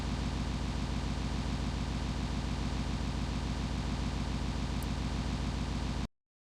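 An engine sound file loops seamlessly in Scratch, giving a steady, unbroken buzzing drone with a fast even pulse that runs for about six seconds, then cuts off abruptly into silence.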